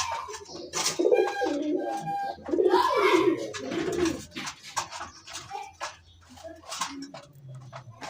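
Two domestic pigeons with their newly hatched chicks coo in soft, repeated throaty bursts close by, with a few quieter rustles and chirps between calls.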